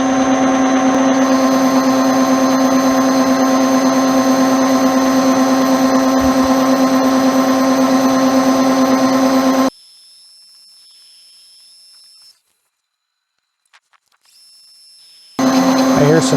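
A metal lathe takes a heavy cut on low background steel, a loud steady whine with a strong hum for about ten seconds, then the machine cuts out, leaving near silence before it starts again.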